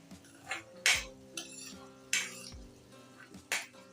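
Spoon scraping and clinking against a pan while stirring masala for a Gujarati banana (kela) curry over a low gas flame, a few distinct knocks and scrapes spaced irregularly under a faint sizzle.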